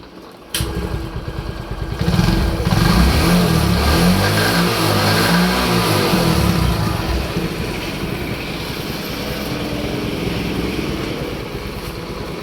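A Honda XL 100 motorcycle engine, after engine work, starts abruptly, revs up loudly for a few seconds, then settles into a steady, close idle.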